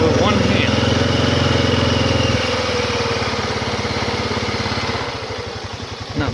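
Honda Rubicon ATV engine idling then pulling away smoothly, a loud steady close chugging rumble that shifts pitch as it moves off, with someone talking over it.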